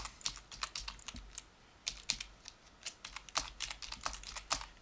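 Quick typing on a computer keyboard, keys clicking in uneven bursts with short pauses between them. The clicks are crisp, close and fairly quiet, with no voices.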